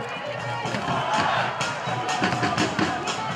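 Football supporters of both teams cheering in a stadium during a Thai AIS League match between Ubon UMT United and Udon Thani FC, a broad roar of crowd noise with shouts and drumming-like thumps rising and falling throughout.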